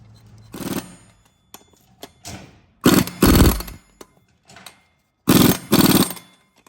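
Flywheel being bolted onto a Honda S2000 during a twin-disc clutch install, with bursts of an impact wrench rattling in short loud runs, three main strong bursts separated by quieter taps and clunks, close by.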